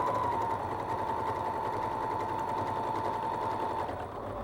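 A sewing machine stitches a quilt strip with a steady, fast mechanical whir and rapid needle rhythm, close and continuous without speech.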